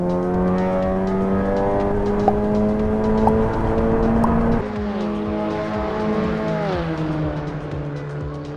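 A race car engine drones loudly and steadily in Assetto Corsa EVO, its pitch climbing through the gears, then dropping and settling as the car is steered out of a corner, with no talk over it.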